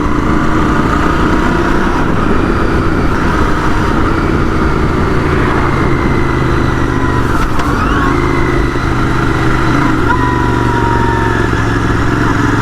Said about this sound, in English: Engine braking is also lovely, very smooth, and the torque is smooth throughout the range.